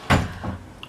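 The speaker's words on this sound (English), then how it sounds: "Can you close that door" A door shuts in a home with a single sharp thud, followed by a softer rattle and faint settling sound.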